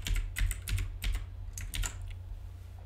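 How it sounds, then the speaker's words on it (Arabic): Close, quiet keystrokes tap out a short word on a computer keyboard in irregular bursts, over a steady low hum. "وراح نكتب مثلا بهذه المنطقة حقائب"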